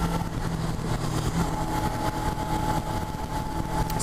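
Suzuki GSX250R motorcycle, gloss black, engine droning steadily while riding, a continuous mid-pitched hum with constant loudness and no talk.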